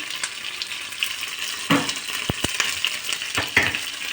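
Hot oil sizzling and spattering in a pan while chicken köfte fry, a steady crackling hiss with several sharp pops and spits, close and alone.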